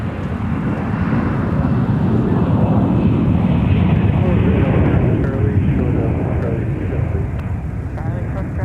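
An airliner departing at Minneapolis–Saint Paul airport, a loud, steady jet engine roar that slowly fades as it moves off, with radio chatter audible beneath.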